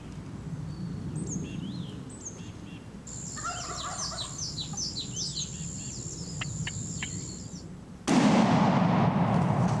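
A wild turkey hen gives a run of sharp, high yelps and clucks outdoors during a spring gobbler hunt, fairly close, followed by a sudden loud blast at the end.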